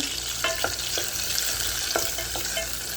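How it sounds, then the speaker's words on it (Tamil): Onions frying in sesame oil in a pan, a steady close sizzle broken by several sharp scraping stirs of a spatula, with no talking, as a capsicum kurma is started. "தேவையான அளவுக்கு நல்லெண்ணெய் ஊற்றிருக்கேம்மா இப்போ வெங்காயம் இதில் போடலாம் வெங்காயத்தை போட்டாச்சும்மா"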